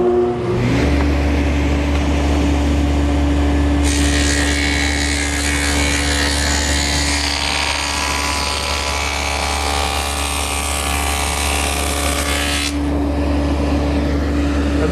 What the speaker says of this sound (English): I've set up my table saw with a 1/2-inch dado head cutter, and the first thing I'm going to do is run the rabbets through the ends of the side pieces.